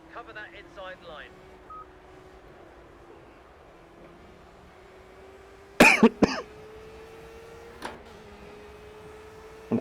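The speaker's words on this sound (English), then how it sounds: "I'm coughing, but it's because I'm doing over 100 miles an hour" A couple of short, sharp coughs break through a steady racing-car engine drone in Project Cars, the car doing over 100 miles an hour, with quieter tones and clicks around them.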